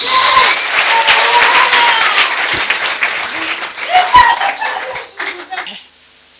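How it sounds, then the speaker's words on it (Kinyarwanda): A prayer meeting congregation in Rwanda bursts into sustained applause for God, dense clapping from a crowd with voices mixed in, fading out near the end. "Komera Imana amashyi."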